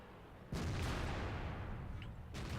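A heavy tank cannon blast from a Type 59 tank in World of Tanks booms suddenly and rolls into a long rumbling roar, followed by a second sharp blast near the end.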